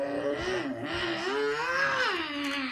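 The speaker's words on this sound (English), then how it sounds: "Oh, that sounds like a car engine. Is that a car engine?" A car engine hums steadily with its pitch rising and falling as it revs, heard close and moderately loud for a few seconds without voices.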